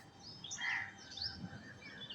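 Crows calling outdoors near electric wires, with a few faint, somewhat distant caws rising over quiet background ambience.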